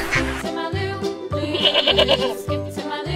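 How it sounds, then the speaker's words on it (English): Toy-demonstration goat bleat for children, several wavering bleats repeated in short bursts, loud and close with no talking over them. "Goat."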